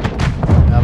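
Cannon fire in the strategy game Anno 1800 as an island comes under attack, with several deep, booming shots rolling over each other in quick succession, loud and close.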